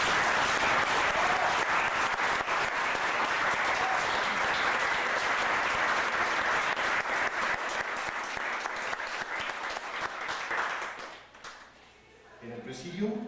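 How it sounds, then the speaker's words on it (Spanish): An audience at a university law faculty gives a book author presenting his work a strong, sustained round of applause, dense clapping that carries for about eleven seconds before dying away into quiet room noise. "para quien solicito un fuerte y merecido aplauso"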